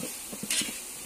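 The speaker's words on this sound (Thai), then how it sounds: "เอากบลงในหม้อกระทะเลยครับ" Crispy fried frog being stir-fried in a wok, with faint scraping strokes of a utensil and a soft sizzle, close but quiet.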